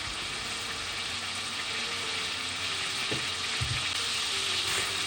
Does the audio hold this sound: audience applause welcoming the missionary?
no